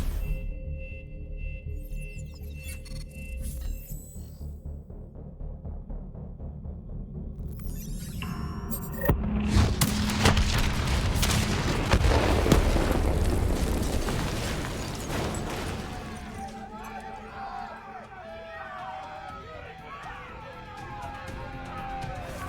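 A detonation in Call of Duty: Black Ops III, heard as a loud broadband blast that swells mid-clip and rumbles on amid game sounds and faint voices.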